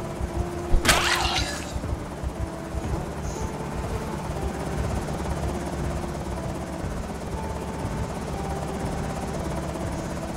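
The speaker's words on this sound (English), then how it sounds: "Let the helicopter run for a while." A steady video-game helicopter rotor drone runs throughout, with a sharp crash or burst of noise near the start, then continuous low mechanical hum.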